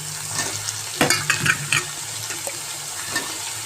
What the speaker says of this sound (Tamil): நல்லா கிண்டிக்குவோங்க, நல்லா வதங்கட்டும்.